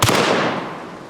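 A single loud blast from a Beretta 1301 semi-auto tactical shotgun, a sharp close report that decays over about a second, heard alone.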